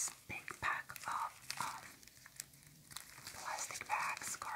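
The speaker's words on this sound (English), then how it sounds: "plastic bags, garbage bags, I don't know." Big plastic garbage bags crinkling and rustling up close in irregular bursts, with soft whispery handling noise between the louder crackles.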